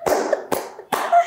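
Three slow, deliberate hand claps, about half a second apart, close and fairly loud, each with a short roomy tail.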